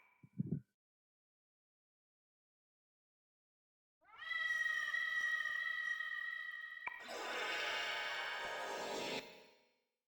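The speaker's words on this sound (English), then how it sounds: "Hey, it's that same cat from the lobby." Cat meowing in the video game Persona 2 Eternal Punishment, heard as a drawn-out tonal cry after silence, followed by a louder, denser harsh wail, both fairly loud and alone without speech.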